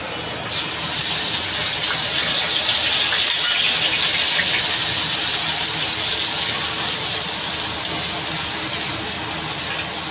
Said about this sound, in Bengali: আমি এবার এই যে পেঁয়াজ রসুনটা যে পেস্ট করেছি, আমি এবার এটা দিয়ে দেবো